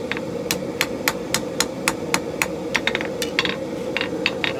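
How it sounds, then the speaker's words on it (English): A hammer strikes hot steel while shallow edge bevels are forged into a skinning knife blade, a steady series of about a dozen sharp ringing blows over a constant roaring forge hiss, with no talk. "Lay in some shallow edge bevels."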